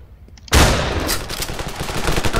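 After a brief quiet lead-in, gunfire from a long-range gun in Ravenfield erupts loudly and continues as rapid repeated shots with dense reverberant rumble.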